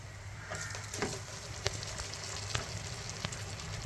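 Spicy khara pongal is stirred in a hot pan, with a steady close sizzle and frying hiss broken by a few soft spoon scrapes and knocks, and no one speaking.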